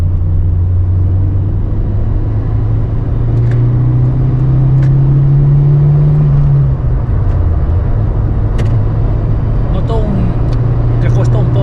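A 1991 Ford Fiesta RS Turbo engine pulls in third gear, a steady loud drone rising slightly in pitch before easing off, with road rumble throughout and someone talking in the cabin over it.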